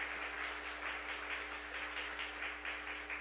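Church congregation applauding during a New Year's service, a moderate, somewhat distant patter of many hands clapping unevenly over a steady low hum.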